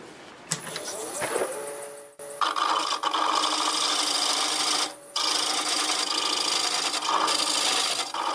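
A bowl gouge cuts black locust wood spinning on a lathe, giving a loud, continuous rasping hiss with bright tonal ringing, broken by two brief pauses as the tool lifts off the wood.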